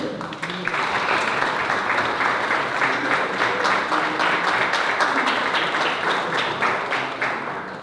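Sustained audience applause fills a hall at an anniversary cultural soirée of the Recreio dos Lavradores, a dense, steady wash of many hands clapping for nearly eight seconds before a singer begins.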